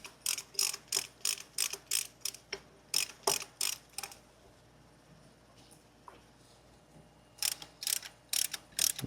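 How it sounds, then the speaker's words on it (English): A caliper piston press tool compresses a brake caliper piston on a Jeep Wrangler JK front brake, giving a steady series of sharp ratcheting clicks, then a pause and a second burst of clicks. "It's a caliper piston press tool."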